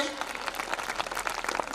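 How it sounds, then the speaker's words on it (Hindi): An audience at a school annual function gives a short burst of applause for a retired colonel, with dense distant clapping and some voices, fairly faint. "तो जोरदार तालियां एक बार कर्नल साहब के लिए।"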